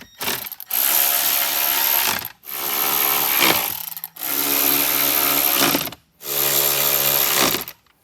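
A ratchet drives screws into the trim of a 2024 Jeep Wrangler in four long, even bursts of rapid close clicking, each separated by a short pause, with no talking.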